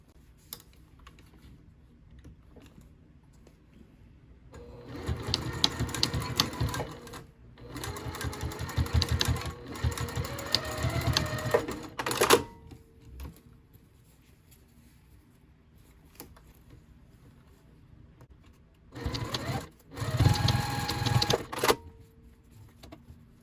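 A sewing machine stitches a boxy fabric pouch in several bursts of rapid mechanical chatter, with quiet pauses between the runs.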